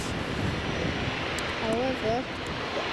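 EasyJet Airbus A320-200 jet engines run at an airport, a steady broad rumble and whine at a distance, with a voice talking over it briefly.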